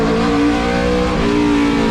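Vintage NASCAR Monte Carlo race cars roar loudly on a track, a sustained, close engine howl with steady revving and slight pitch shifts as cars pass, no speech.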